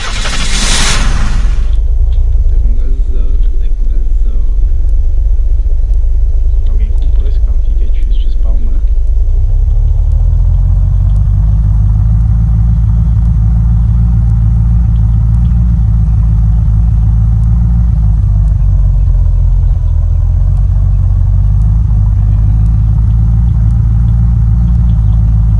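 A car engine in the video game Unturned: a deep, steady rumble that stays loud and continuous throughout, swelling slightly as it revs after the opening seconds.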